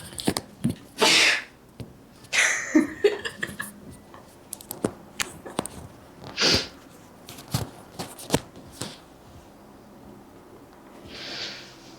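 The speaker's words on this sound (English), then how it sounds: "I'm gonna sneeze." A person sneezes in a quiet studio, a sharp burst near the start followed by scattered clicks, small movements and brief softer noises, with a faint hiss trailing off at the end.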